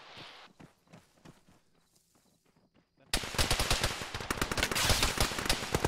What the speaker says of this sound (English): We're shooting right at you.